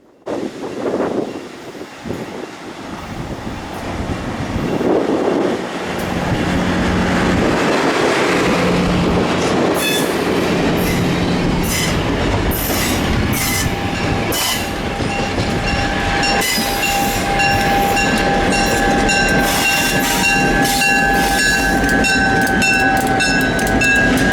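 A train on the Hoosier Valley Railroad rumbles past a crossing, building from a low approach to a loud, sustained roar with rail clatter and high metallic squeal, sounding close and continuous.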